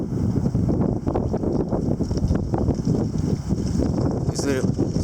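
A strong gust of wind from a winter windstorm roars against the microphone in a loud, rough, rumbling rush. It surges and buffets continuously, with faint dust or debris hissing through it.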